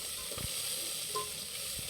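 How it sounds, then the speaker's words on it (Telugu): Flattened rice (atukulu) being fried in a pan for a village festival offering, a steady low sizzle punctuated by a few scraping strokes of a stirring spoon, close and without voices. "మమ్మీ అటుకులు చేస్తుంది, బయటికి పెట్టింది."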